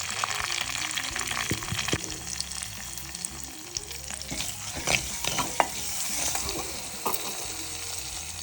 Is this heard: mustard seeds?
yes